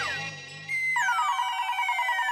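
An electronic phone ringtone trills steadily in a rapid warbling pattern, fairly loud and close, with a faint voice briefly audible at the start.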